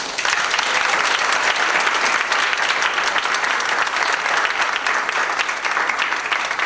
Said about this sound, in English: how about one last big round of applause for all of you?